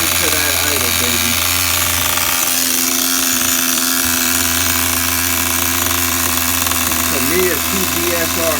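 A Tamiya TGS-R nitro RC truck engine idles loud and close in a steady, buzzy drone that holds for the whole stretch, with brief voices breaking in near the start and the end.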